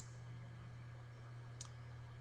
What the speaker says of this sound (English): I will go ahead and click the ones that I think are going to be relevant